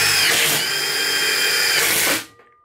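Power drill driving a countersunk screw straight through material, a loud whirring motor rising in pitch, then running steadily for about two seconds before cutting off abruptly to near silence.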